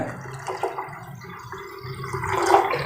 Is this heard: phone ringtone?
no